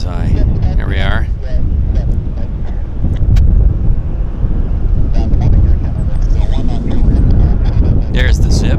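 Heavy wind buffets the microphone at Vancouver airport with constant low roaring rumble, while someone talks over it and traffic noise sits in the background.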